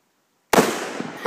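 A single sharp assault rifle shot cracks out at outdoor target practice after silence, loud and close with a short decaying tail and a brief burst of noise at the end.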